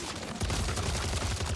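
Gunfire in MW3 Zombies erupts into a rapid, sustained fusillade of automatic shots, loud and continuous after a brief quieter start.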